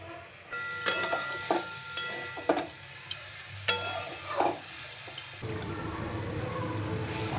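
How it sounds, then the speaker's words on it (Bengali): Cauliflower curry stirred in a frying pan, a steady sizzle of hot oil under repeated scraping strokes of a spatula that come roughly every half second, close and clear with no talking. "ফুলকপির ঝোল করবো একটুখানি, ফুলকপির ঝোল আর পালং শাকের তরকারি।"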